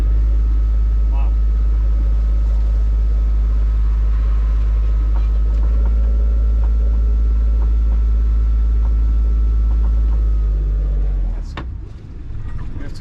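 A motorboat fitted with a Brunto propeller runs under throttle, a loud, close, steady engine drone mixed with wind and water rush that drops off as the throttle eases near the end.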